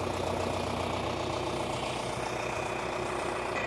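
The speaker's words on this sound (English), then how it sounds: "Tractor started a little too easy." An old farm tractor engine idles with a steady, dense rumble, loud and continuous throughout with no gaps and no talk.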